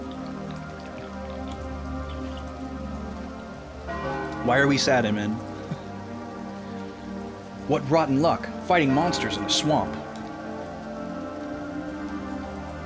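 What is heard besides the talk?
rain in a swamp, from video game Final Fantasy Tactics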